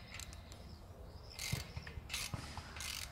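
A bolt is tightened on the iron frame of a heather parasol, giving close ratcheting clicks and metallic scraping in short bursts, with no talk over it.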